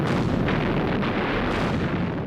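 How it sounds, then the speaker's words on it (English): Wartime flak and machine-gun fire bursting around a low-flying aircraft over Russian lines: a dense, continuous roar of explosions and rumbling blasts, loud and close throughout, with no clear gaps between bursts. "Flak and machine gun bullets explode around them, and von Greim is injured."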